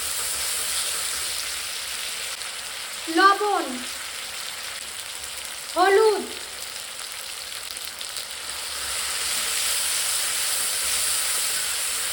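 Spice paste of ground coriander, cumin, dried chili, ginger-garlic and green chili paste fries in a pan for mutton curry, a steady moderate hiss broken by two brief chirping tonal sounds.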